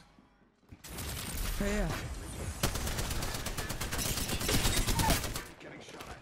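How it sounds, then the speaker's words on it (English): Rapid automatic gunfire in Apex Legends chatters in dense bursts over several seconds, quite quiet overall, as someone speaks briefly over the shooting. "Getting shot at."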